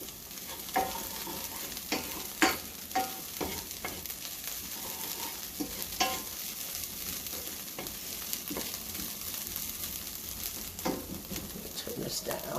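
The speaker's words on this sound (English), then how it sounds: "I'm going to put my peas, carrots, and onions in." Peas, carrots and onions sizzle and fry in a pan for cauliflower fried rice, a steady close crackle with occasional scraping stirs and clinks, no talking.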